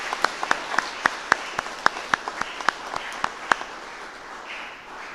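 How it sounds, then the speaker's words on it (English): A church congregation claps at a deacon ordination Mass, a run of distinct, evenly spaced claps that sound like a few hands in a reverberant hall and fade out over several seconds. "Now let us give a thunderous clap to the Lord for these 18 deacons."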